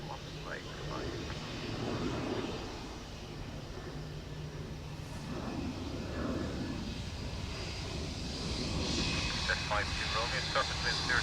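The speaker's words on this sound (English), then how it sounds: "NSH is Ryan is the next A320neo, brand new to be delivered to Aer Lingus" A brand-new Airbus A320neo bound for Aer Lingus at Dublin Airport gives a distant, steady jet-engine roar that swells slightly toward the end, under overlapping speech and radio chatter.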